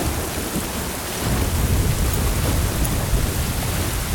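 A thunderstorm with heavy rain pours as a dense, loud, steady hiss, with a deep rumble of thunder swelling in from about a second in and holding under the downpour, no voices.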